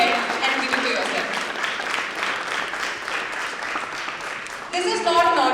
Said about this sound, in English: If that deserves a round of applause, please go ahead and give it to yourself.